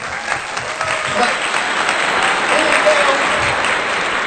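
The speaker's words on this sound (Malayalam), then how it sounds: "ഒരു ക്ലാപ്പ് കൊടുക്കാം." Audience applause in a hall at a children's Islamic quiz event, steady, dense clapping from many hands throughout, fairly loud and close.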